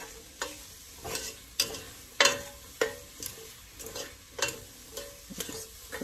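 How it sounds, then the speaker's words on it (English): A spoon stirs spice-coated jackfruit in a pan, giving a series of regular scraping strokes about every half second over a soft background sizzle, close and fairly quiet. "I'm just going to mix it right in there and get the jackfruit coated with all those"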